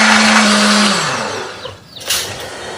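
Kitchen blender grinding a spice paste of chili, shallot, garlic, turmeric and candlenut, a loud steady whirring motor that winds down and stops, followed by a few clatters.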